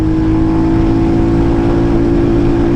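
A 2024 Royal Enfield Hunter 350 motorcycle pulls hard in third gear, its steady, loud engine drone holding a strong low hum throughout with no break or voices.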